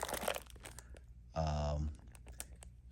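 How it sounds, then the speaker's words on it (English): A small plastic bag holding TENS unit electrode pads crinkles once in a loud half-second burst, up close, set apart from quieter handling noises before and after it. "I've got these pads in a little plastic bag here."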